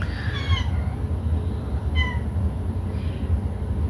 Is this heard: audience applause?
no